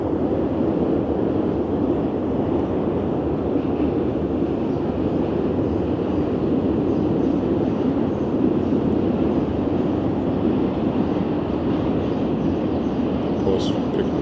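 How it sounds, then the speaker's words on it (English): Subway train crossing the Manhattan Bridge in New York, a steady low rumble and roar that holds for the whole stretch, with wind buffeting the microphone. "one of the trains passing over the Manhattan Bridge"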